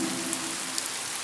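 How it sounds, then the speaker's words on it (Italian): Steady rain falls in the Pocoyo cartoon, a dense even hiss of drops pattering on a surface, loud and continuous with no voices. "La pioggia! La pioggia!"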